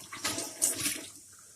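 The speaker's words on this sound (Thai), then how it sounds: "ล้างมือก่อนนะคะ" Hands rinsed under a running kitchen tap, a brief splashing gush of water lasting about a second before it fades into quiet.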